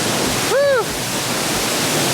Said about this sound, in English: Reporting live from the second waterfall at Escondido Falls.